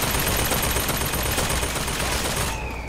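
A loud, dense stream of rapid machine-gun fire in the video game Bioshock Infinite runs continuously for nearly three seconds and then drops away slightly at the end.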